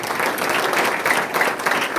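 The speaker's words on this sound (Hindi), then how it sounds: "जोरदार तालियां बजाएं।" A church congregation claps loudly and continuously, a dense wash of many hands applauding together filling the hall throughout.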